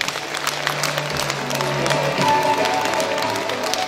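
Audience applause in a philharmonic hall during a televised talent show, a dense wash of clapping with some crowd noise that holds steady and swells slightly toward the end.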